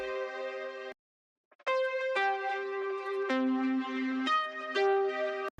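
Hive synthesizer pluck preset with ambient, spacey effects switched back on: a brief note, a short gap, then a run of bright plucked notes blurring together into a washy, sustained phrase.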